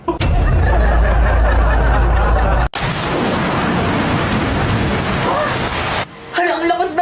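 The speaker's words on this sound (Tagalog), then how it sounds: "Hala, ang lakas ng ulan." Heavy rain with thunder: a deep rumbling roar at first, a sharp break, then a dense, loud hiss of pouring rain that stops abruptly near the end.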